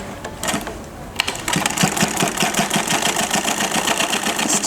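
A sewing machine stitches pyjama fabric at steady speed, its rapid needle chatter and motor hum running continuously and loudly after a brief quieter start, with no talking.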